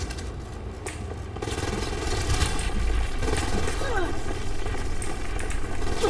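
Video game gunfire crackles in rapid, dense bursts over a constant background of battle noise, with a voice heard over the shooting.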